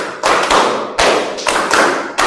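Junior high students in an Islamic school fiqh class clap together in quick, slightly uneven bursts for a five-count clap game done twice, a run of loud, close group claps with no talking over them.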